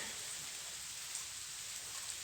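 Steady rain patters continuously on a farm with rabbits, a dense hiss of drops hitting surfaces, even and unbroken throughout.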